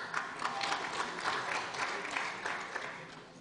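Applause rises in a parliamentary chamber, a steady patter of many hands clapping at moderate volume from the benches, continuous for a few seconds without speech over it.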